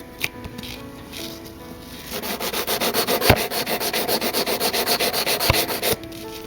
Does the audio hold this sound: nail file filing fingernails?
yes